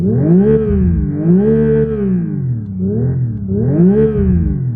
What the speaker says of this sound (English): That's also helped by the virtual driving noise that it does.